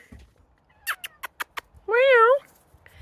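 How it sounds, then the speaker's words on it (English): Inside a house with a half-built addition, a few sharp taps or clicks come first, then one clear, wavering cat meow sounds close by. "I hear the kitty."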